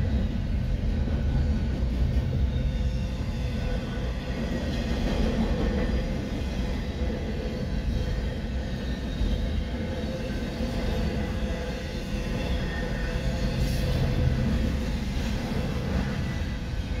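A northbound CSX I140 intermodal freight train rolls past on track one, a steady loud rumble of wheels and railcars sustained throughout with rail clatter and no talking.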